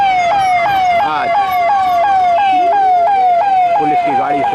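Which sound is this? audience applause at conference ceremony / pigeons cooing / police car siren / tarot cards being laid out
police car siren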